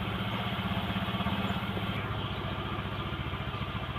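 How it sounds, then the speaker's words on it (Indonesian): A Honda Vario scooter engine idles steadily close by, a low, even mechanical putter with slight clatter and a regular pulse, running alone without voices. "setelah motor hidup kita cek untuk pengisiannya"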